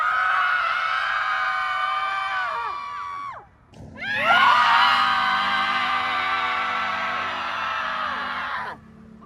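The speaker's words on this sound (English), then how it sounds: "A group of 20 mothers in Boston gathered to do a primal screaming to release the building stress of parenting during COVID." A group of about twenty mothers in Boston screaming together in a primal scream session, one long loud collective scream breaking briefly, then a second sustained burst of overlapping shrieks and yells.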